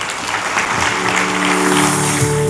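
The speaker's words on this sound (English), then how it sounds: "Let's give him a warm applause" An audience claps for a speaker at a national resilience event, a steady burst of applause with a faint hum running beneath it and no speech.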